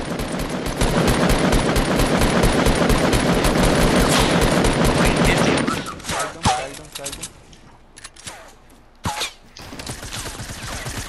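Rapid automatic gunfire rattles nonstop in a shooter game for several seconds, then breaks into scattered single shots and bursts while players talk excitedly.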